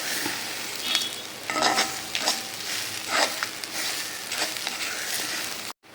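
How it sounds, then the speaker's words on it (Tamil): Grated coconut sautéing in a pan for coconut chutney gives a steady close sizzle with recurring scraping stirs, no voices, cutting off abruptly at the end. "தேங்காய் பார்த்தீங்கன்னாக்கா 1 நிமிஷம் வதக்கியாச்சு"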